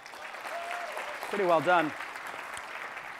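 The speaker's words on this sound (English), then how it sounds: "a big round of applause for the 500 Startups team" Applause from a startup investor conference audience in San Francisco, a broad steady patter under someone speaking, whose voice rises briefly in the middle.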